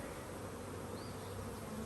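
Honey bees around a swarm trap, a dense continuous buzzing hum from many insects, close and steady throughout, no voices.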